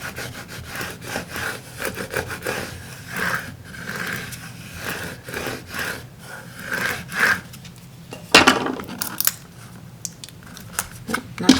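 A tool scraping over a chalkboard sign, a steady rasping rub with repeated strokes and a few sharper scrapes near the end, heard alone and close.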